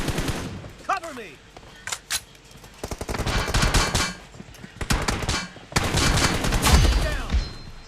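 Rapid bursts of automatic gunfire from the PUBG Mobile game during a grand-finals esports match crackle in repeated volleys of varying length, close and loud, with brief voices and game sounds between them.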